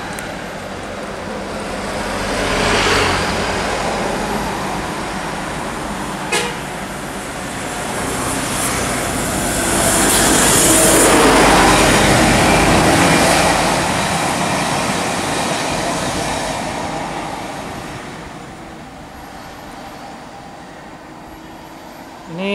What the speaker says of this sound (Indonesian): ini bus yang ketiga dari Sinar Tempo yang menuju ke Jakarta